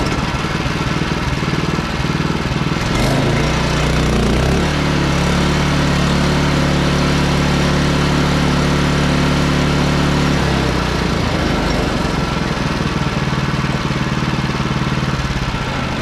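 A small engine cranks and then runs steadily at a near, loud level, with a low mechanical drone holding through the middle before the pitch shifts; no one talks over it.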